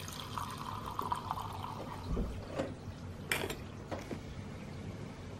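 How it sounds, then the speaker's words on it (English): Mouthwash pumped from a measuring dispenser into a cup, a soft liquid trickle and gurgle followed by a few short mechanical clicks of the pump, close and quiet with no talking. "That will give you up to 2 ounces of mouthwash into your cup."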